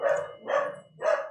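Three separate dog barks in an even rhythm, indoors and fairly close, each a short, full woof with a little spacing between them and no talk over them.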